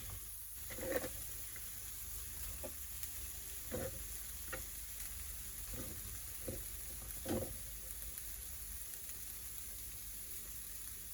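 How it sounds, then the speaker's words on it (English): Chopped onions and peppers fry in a pan with a constant soft sizzle, punctuated by occasional clinks and scrapes from stirring, close but fairly quiet throughout. "Get your onions in and your peppers."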